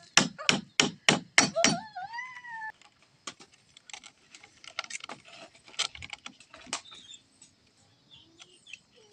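A hammer drives nails into a fishpond gate: a quick run of about six sharp, loud strikes, then scattered lighter taps and knocks, with a few quiet voices.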